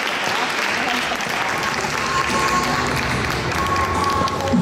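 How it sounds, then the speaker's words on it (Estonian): Steady, dense applause from an audience at a gymnastics festival awards ceremony, honoring a group coach; the clapping holds loud and even throughout, with no break. "Teeme suur aplaus ka Karoliina Liiv-Priidile"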